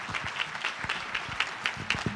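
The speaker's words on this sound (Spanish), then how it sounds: "Un fuerte aplauso." Audience at a talk at a digital worlds conference applauding, a short burst of scattered, fairly sparse hand claps, close and moderately loud.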